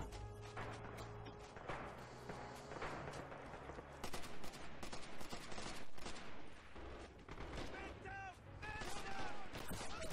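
Rapid bursts of rifle and machine-gun fire crackle through a multiplayer battle in the WWII shooter Red Orchestra 2: Rising Storm, with scattered shots both near and distant and voices talking in between.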